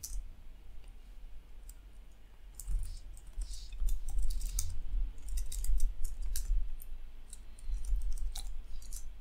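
Rapid, irregular keystrokes clatter on a computer keyboard during a login to an SAP system, close and fairly quiet, with a steady low hum underneath and no speech.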